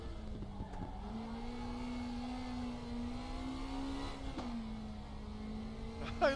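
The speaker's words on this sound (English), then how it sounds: "love the buzzing of that little engine." Small NSU TTS engine buzzing steadily at high revs with a slight rise and dip in pitch, close and loud, with a brief squeal near the end.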